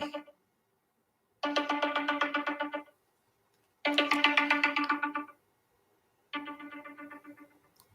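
An unknown caller's phone ringing in three loud, sustained bursts of rapid, warbling electronic ringtone, each lasting about one and a half seconds, separated by silent pauses, with the final burst cut short as it fades.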